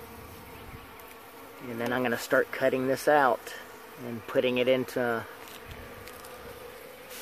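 Honeybees buzzing during a removal from a Florida mobile home, a steady insect drone in the background while someone talks close by over it.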